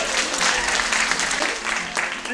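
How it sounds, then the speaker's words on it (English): Audience applause at a special needs talent showcase, a dense wash of many hands clapping at steady volume throughout, with a few voices mixed in beneath it. "give a round of applause to the first-timers."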